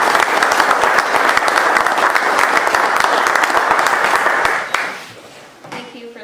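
Loud, sustained applause from an evening lecture audience welcoming a guest speaker, dense clapping that holds steady for several seconds and then quickly dies away.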